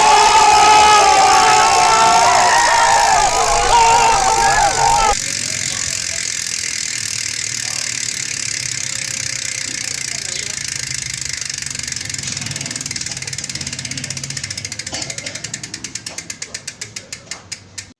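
The freewheel hub of a Ragusa XM500 bicycle gives a loud, dense ratcheting buzz that drops in level partway through. It then slows into separate clicks as the wheel coasts to a stop, with people talking near the start.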